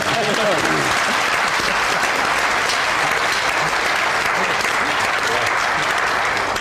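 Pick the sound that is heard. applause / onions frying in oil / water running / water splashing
applause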